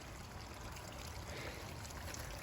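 Stream water trickling through a stone channel into a lush field, a faint continuous burbling wash that holds steady throughout with no voices.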